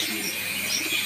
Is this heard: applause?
no